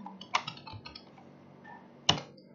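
Faint, close clicks of typing on a computer keyboard, a short cluster of keystrokes followed by a pause and one sharp final tap, with no talking.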